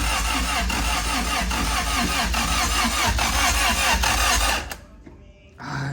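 A Nissan 370Z engine cranks steadily and loudly for about four and a half seconds, trying to start without catching, then cuts off abruptly into near silence.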